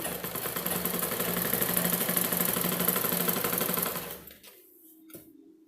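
A sewing machine stitches a fall onto a saree with a rapid, steady mechanical whir for about four seconds, then stops abruptly, leaving a faint brief knock in the quiet.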